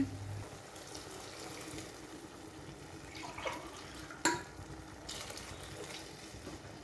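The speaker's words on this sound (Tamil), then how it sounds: "இதே கிளாஸில் இப்போ 1½ கப் அளவுக்கு தண்ணி ஆட் பண்ணிக்க போகிறேன்." Water runs steadily into a glass with a soft splashing fill, fairly quiet and close, with a few small clinks along the way.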